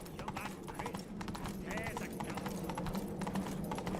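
Roach, a horse in the game The Witcher III, gallops with a quick, steady clip-clop of hooves, close and continuous, while voices speak over it.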